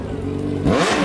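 A Yamaha XJ6 motorcycle engine catches and revs hard, its pitch sweeping upward in a brief loud burst after a steady low run, close and alone.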